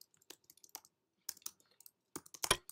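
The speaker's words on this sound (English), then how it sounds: "So I'm typing" Typing on a computer keyboard: sparse, quiet clusters of sharp key clicks in short bursts separated by pauses, close by with no talk.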